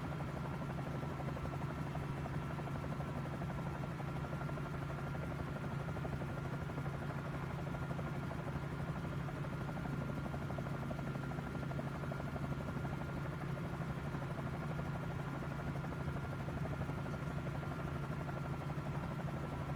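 A Bell 47 J-2 helicopter's Lycoming VO-540 engine in Microsoft Flight Simulator drones steadily and evenly throughout, a constant buzzing hum with a low throb underneath and no other sounds.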